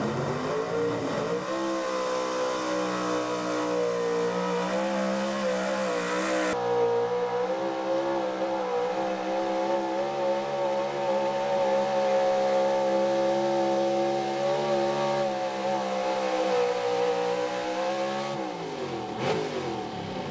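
A pulling truck's engine roars at a truck and tractor pull, a loud sustained revving drone held steady for about twenty seconds with a shift in pitch partway through, no talk over it.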